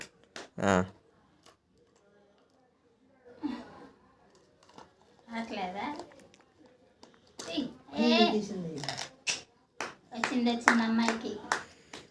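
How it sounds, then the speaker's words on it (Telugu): Bursts of hand clapping, a short clap early then several rounds of applause, mixed with a child's and adults' cheerful voices. "సూపర్ చప్పట్లు"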